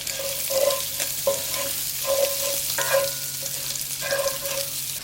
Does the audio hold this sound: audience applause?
no